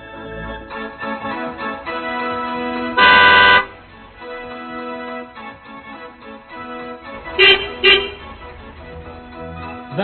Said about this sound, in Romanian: La schimbarea culorii semaforului, unii conducători auto, grăbiți, își fac loc cu claxonul.